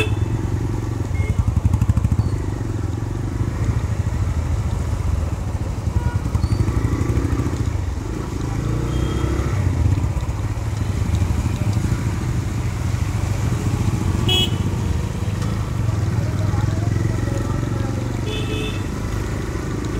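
Motorcycle ride on a Delhi road: a continuous low engine drone with rumbling throttle changes and wind, steady and close for the whole stretch, with occasional light clatter.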